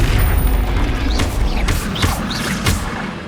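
Blasts of the Confringo explosive spell in Hogwarts Legacy boom in loud, rumbling bursts with a few whooshing streaks, a dense, continuous roar of game combat.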